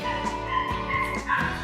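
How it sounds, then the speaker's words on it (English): Dog barking and yipping in a rented apartment in Bicol, Philippines, several quick sharp barks over a steady tonal hum, fairly close and with no talk. "let me close the door because there's dog barking"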